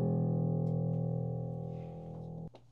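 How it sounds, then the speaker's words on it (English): A bass line played on strings sounds as a steady, full low tone. It sustains evenly, gradually fades, then stops sharply, with no voices. "I quickly just put that bass line in the strings."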